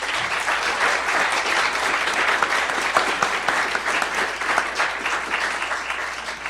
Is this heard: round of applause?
yes